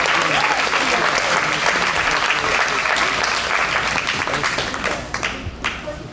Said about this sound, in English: Could we just have another round of applause?